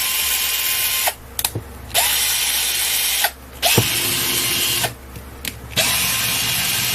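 An IKEA FIXA 4V two-speed electric screwdriver, freshly fitted with a replacement battery, whirs in loud steady motor bursts, stopping briefly three times with short gaps and spin-down squeals between runs.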